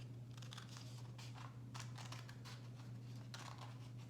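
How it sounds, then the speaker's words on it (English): Scissors snip a half circle out of paper in a quick series of close, crisp cuts over a steady low hum, with no talking. "I'm gonna cut a half circle."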